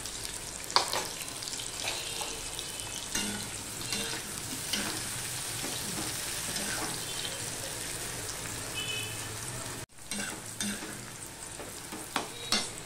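Sliced onions fry in hot oil for mutton biryani, a steady broadband sizzle with intermittent stirring scrapes, close and continuous, with a brief dip in the hiss near the end before it resumes.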